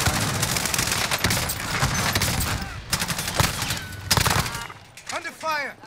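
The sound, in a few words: gunfire in Warzone video game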